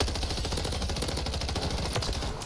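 A rapid burst of automatic gunfire in Call of Duty MW3, steady and close, with dense rhythmic shots filling the whole moment.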